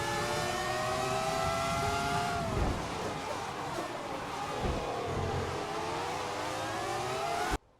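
F1 racing cars from an F1 game roaring down a back straight side by side toward turn 3, engines whining and shifting pitch as they pass, steady and loud until an abrupt cutoff.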